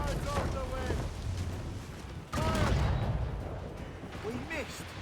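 Ship cannons firing in Assassin's Creed Rogue, heavy booms rolling out amid wind and sea noise during a naval battle, with a couple of loud blasts and shouting crew voices over the din.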